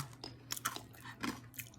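Close, crisp crunching of homemade air-fried chicharon bulaklak being chewed, with irregular bites and crackles spread across a quiet moment, and no talking.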